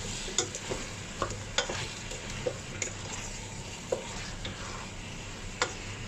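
Chicken sautés in a pan, a continuous sizzle broken by sharp ticks and scraping taps as pieces are stirred, heard close and without speech.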